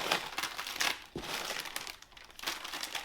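Plastic-wrapped MRE biscuit packets crinkle and rustle nearby as they are lifted out of a box, in several loud bursts of crackling with short quieter gaps between them.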